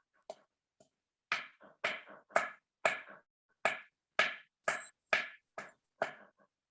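Bamboo culm knocked by hand to test its hardness for flute making, about a dozen sharp, hollow, woody raps in an irregular rhythm, close and clear with silence between strikes.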